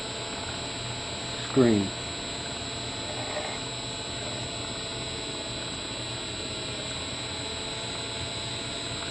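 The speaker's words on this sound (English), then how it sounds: "run the motor up again with that capacitor in the circuit" A slow-turning Bedini motor, running at only a couple hundred RPM with a capacitor in its circuit, gives off a steady faint mechanical hum with a brief chirping sweep early on, under light background noise.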